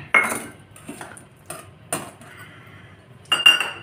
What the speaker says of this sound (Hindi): तो बूरा मैं इसमें डाल लूंगी